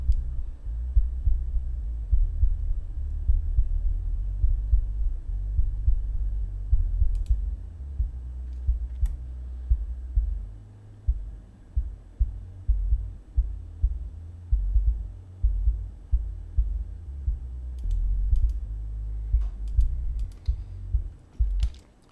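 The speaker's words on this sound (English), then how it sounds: "you can hear the reference has a little bit more below 50 on the bass and a little bit more below 50 on the kick" Low end of a reference track's kick and bass filtered to 50 Hz and below: a deep, muffled rumble with steady rhythmic thumps of the kick pulsing under a droning bass, moderately loud and alone.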